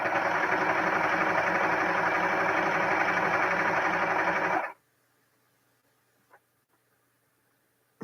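A serger sewing machine whirs loudly and steadily for several seconds, then stops abruptly, leaving near silence broken by a faint click.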